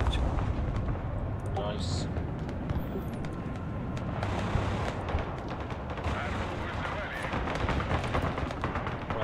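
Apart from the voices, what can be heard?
artillery fire in the video game Broken Arrow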